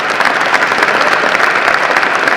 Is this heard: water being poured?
no